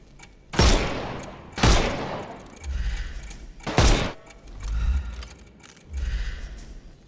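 Gunfire in a Sherlock Holmes video game, shots fired at enemies' armour, arriving as three loud sharp bangs with softer mechanical clatter and thuds between them.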